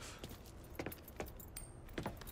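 A set of car keys jangles in a few faint, brief metallic bursts in the Mafia 3 video game, quiet and close with no talk.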